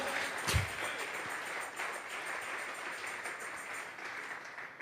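Congregation applause at a Sunday church service, a steady sustained wash of clapping throughout with one louder thump near the start.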